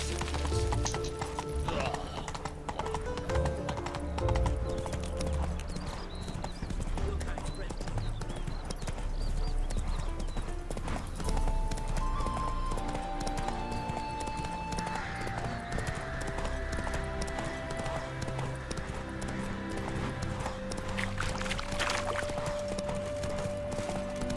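Roach the horse's hooves clip-clopping steadily through a Witcher 3 game scene, with continuous music, ambient game sound and occasional voices mixed throughout.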